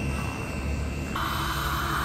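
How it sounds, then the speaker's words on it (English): A turbine-driven radio-controlled model helicopter at a club flying field whines steadily, with a high turbine tone that jumps in pitch partway through, heard alone. "It's a turbine-driven helicopter."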